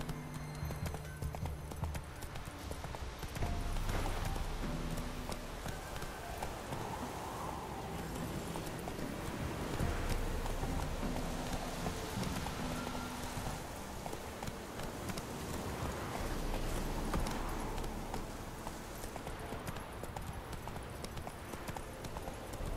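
Horse galloping in The Witcher 3: Wild Hunt, a continuous rhythmic clatter of hooves within a dense game soundscape.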